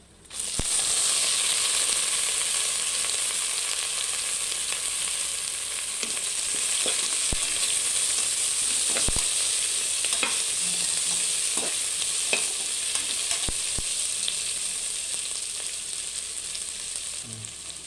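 Onions frying with spices for mutton biryani, a loud steady sizzle filling the whole stretch with occasional sharp clicks of stirring, no voices.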